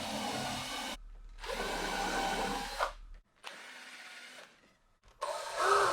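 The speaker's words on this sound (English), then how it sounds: "after a couple of screws are added to secure the table assembly together" Power drill driving screws to secure a wooden table assembly for a small kitchen, in several loud bursts of whirring with brief pauses between them.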